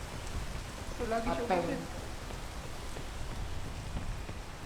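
Steady rainfall patters on surfaces outdoors, a continuous wash of hiss close by, while people talk briefly over it.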